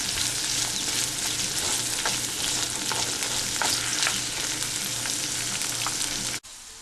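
Okra, onion and garlic sautéing with tomato in a pan for vendakkai puli kuzhambu, a steady, close sizzle with faint stirring scrapes, cutting off abruptly near the end.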